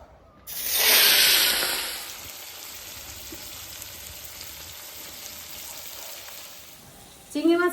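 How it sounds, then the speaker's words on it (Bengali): Shrimp seasoned with salt, turmeric and chilli powder hit a hot pan with a loud burst of sizzling that settles into a steady, softer frying hiss, followed by a brief clatter near the end. "চিংড়ি মাছটা ভাজা হতে থাকুক"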